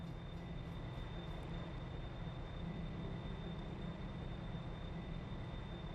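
A rented train runs in Farming Simulator 22 as a faint, even rumble that rolls on steadily without pause, with no voices.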